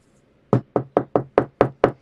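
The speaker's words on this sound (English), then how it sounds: "He's knocking." Seven firm knocks on a door, evenly spaced after a short silence, loud and close with sharp attacks and quick decay, no talking.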